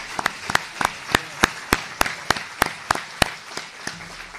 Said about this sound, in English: So a round of applause for Bill, please.